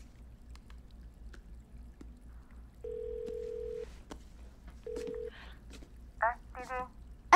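A mobile phone call is dialed: two short, steady electronic tones sound, then a burst of chirping ring-tone beeps, all quiet and close.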